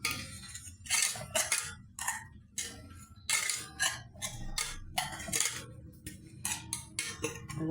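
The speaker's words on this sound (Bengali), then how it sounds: "লবণটা দিয়া এটা নাড়াচাড়া দিয়ে দিব ভালো করে মিশাই লবণ" Egg with salt and green chillies being stirred and whisked in a bowl, a run of quick clicking taps of utensil against the bowl that come in bursts with short pauses, close and moderately loud, with no talking.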